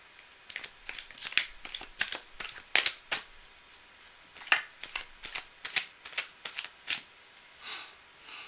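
Tarot cards being shuffled by hand, a run of crisp close riffling bursts and flicks in an irregular rhythm, with no voices, during a live mini reading session.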